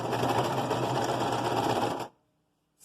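Sewing machine back stitching a tie into a face mask, a fast, even mechanical whir for about two seconds that stops abruptly into silence, then starts again briefly at the end.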